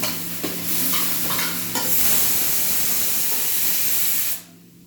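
Sliced onions hit hot oil in a pan for paneer bhurji and give a loud, steady, close sizzle and hiss, with a few stirring scrapes early on. The sizzle cuts off abruptly near the end.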